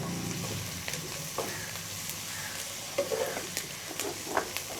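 Capsicum and carrot pieces fry lightly in a pan while being stirred, giving a steady soft sizzle broken by scattered spatula scrapes and taps near the end, with no voices.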